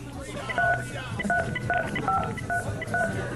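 Telephone keypad tones from a child pressing buttons on the phone, a string of short beeps at an uneven pace, moderately loud over steady background noise and voices during a 2002 band interview.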